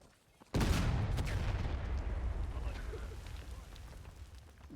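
A loud cannon blast from a Civil War–era field gun in War of Rights booms out suddenly after a brief quiet moment, then rolls and rumbles away over several seconds.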